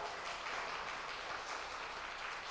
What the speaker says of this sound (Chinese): 拍手欢迎他